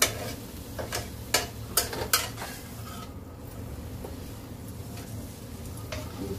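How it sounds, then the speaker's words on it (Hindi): Karela masala is stirred in a pan while stems and chopped coriander are mixed in: a few loud scraping clinks of a spoon in the first couple of seconds, then a quieter, softer mixing rustle. "इस तरह से डाल करके इसको अच्छी तरह से मिक्स कर लेते हैं।"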